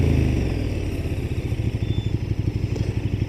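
A motorcycle engine lane-splitting through traffic in California, loud and close, with a steady pulsing throb that speeds slightly toward the end. No voices are heard.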